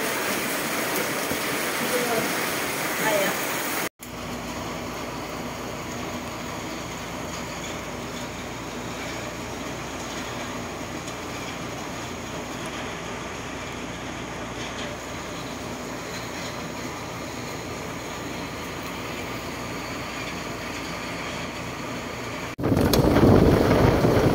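Steady, loud roar of heavy wind and rain, broadband and continuous, with a sudden cut partway and a louder gust-like burst at the end.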